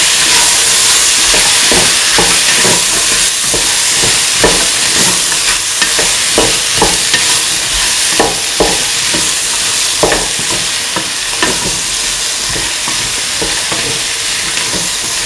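Green chillies sauté in a hot pan with a loud, steady sizzle, while a spoon scrapes and stirs at irregular intervals, close up and with no voices.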